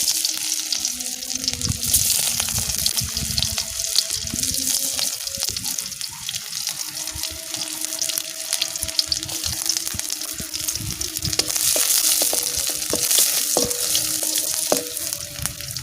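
Garlic or shallots fry in oil in a pan for a stir-fried wild Chinese betel leaf dish, giving a steady, close sizzle with occasional stirring clatter throughout.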